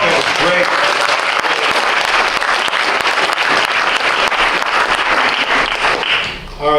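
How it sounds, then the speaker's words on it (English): An audience at an evening art show bursts into loud, sustained applause, dense clapping filling the room for several seconds before it tapers off at the end. "let's give everybody a big round of applause"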